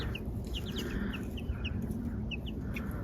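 Young chickens, newly let out into a grassy homestead yard, give soft, scattered clucks and short peeps that are faint against a steady low background rumble.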